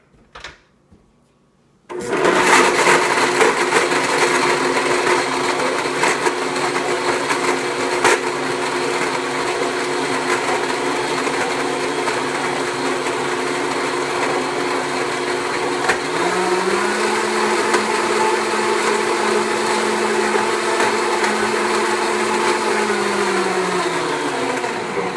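A Blendtec blender whirs loudly and steadily as it purees soaked almonds with water and vanilla extract into homemade almond milk. A few soft clicks come first, then a sustained high-speed roar whose pitch shifts partway through.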